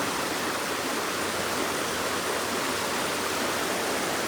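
Fast-flowing stream water rushes in a steady, dense, close wash of noise that stays even and continuous with no pauses.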